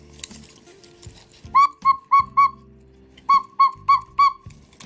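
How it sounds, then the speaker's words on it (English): A Black Forest cuckoo clock's pipe and bellows, taken out during restoration, sound two sets of four clear hooting cuckoo tones, evenly spaced and close, with light handling noise in between. "That's the first half of it, of the cuckoo sound."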